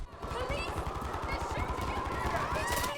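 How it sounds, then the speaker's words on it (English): Police gunfire in the video game Call of Duty Modern Warfare III, a rapid rattle of shots pulsing steadily under a player's voice. "The police are shooting at us"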